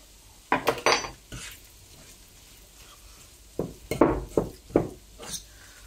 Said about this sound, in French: Je vais prendre une petite cuillère.